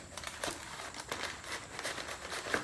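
Paper packing is pulled out of a dirt bike battery box, a run of soft, close crinkling and rustling with small crackles, quiet and irregular, and no speech over it.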